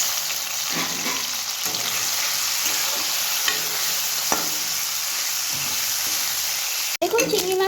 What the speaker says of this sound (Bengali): তেল দিয়ে আমি চিংড়ি মাছগুলোকে ভেজে নেব হালকা লাল